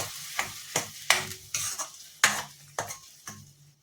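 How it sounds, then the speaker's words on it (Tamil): A spoon scrapes and stirs through thick tomato chutney in a pan, about a dozen quick strokes in an uneven rhythm, close up with no talking. "இதை நல்லா மிக்ஸ் பண்ணிக்கலாம்."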